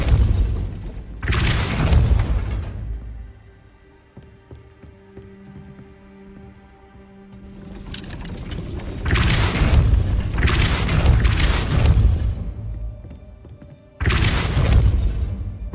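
The Depulso spell being cast in the Hogwarts Legacy game near a gate, heavy booming blasts with rumbling tails, one early burst and then a cluster of three loud impacts after a quieter stretch of faint tonal hum.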